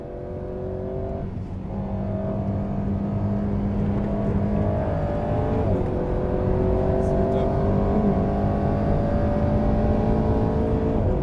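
An Alpine A110R sports car engine drones loudly and steadily around the Jarama circuit, its pitch rising and shifting through gear changes, with someone talking over it.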